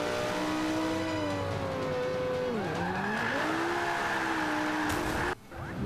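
Lamborghini drifting in the Forza Motorsport 5 racing game: a loud engine drones steadily while its pitch dips and rises, with continuous tire squeal through the slide and a brief sharp burst near the end.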